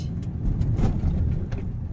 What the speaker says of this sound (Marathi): आणि गाडी चालवतोय नितीश.